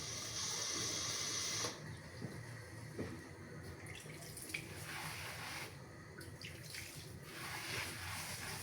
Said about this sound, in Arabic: وغنديروا واحد الكويس ديال الماء